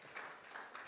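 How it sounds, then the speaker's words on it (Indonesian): A church congregation applauds together in a steady, moderately faint wash of many hands, continuous across the moment with slight swells. "Berikan tepuk tangan buat Tuhan Yesus."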